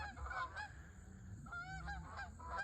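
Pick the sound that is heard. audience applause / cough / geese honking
geese honking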